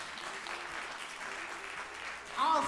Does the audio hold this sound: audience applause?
yes